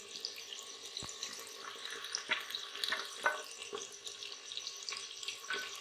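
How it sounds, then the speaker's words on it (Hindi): Onions fry in a pan with a faint, steady hiss and occasional light taps of stirring, a quiet, watery-sounding sizzle with no talk. "प्याज हमारा फ्राई हो रहा है"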